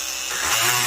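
Oscillating multi-tool cutting into the dashboard of a 2005–2010 Hummer H3, a brief, close, harsh buzzing rasp that grows slightly louder.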